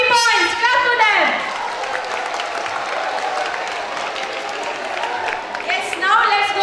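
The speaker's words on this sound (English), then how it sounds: "Clap for them." Audience applause for a school quiz team at a science day event, a sustained wash of clapping lasting several seconds, loud and close, with a voice speaking over the start and end.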